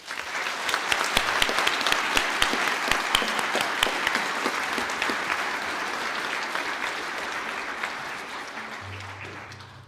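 A ceremony crowd applauds standing graduates of a biopharmaceutical science postgraduate diploma at a GMIT graduation. The sustained clapping is even and moderately loud, with sharp individual claps early on, and tapers slightly toward the end.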